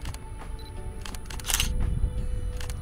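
An outdoor senior portrait shoot with a camera, sharp shutter clicks sounding in quick bursts, one louder cluster in the middle, over steady outdoor background noise.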